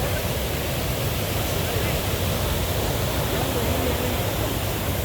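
Duden Waterfall in Lara, Antalya, pouring down into the sea with a steady, dense roar of rushing water that stays constant and loud throughout, with no voices.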